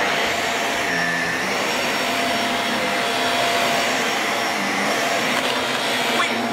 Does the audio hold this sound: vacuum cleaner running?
yes